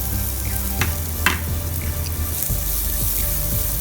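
Ridge gourd peel drops into a hot pan with lentils and dried red chillies, giving a steady close sizzle and frying crackle with a few sharp pops and stirring clicks.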